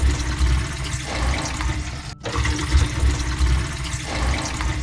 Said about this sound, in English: let's go ahead and let the water out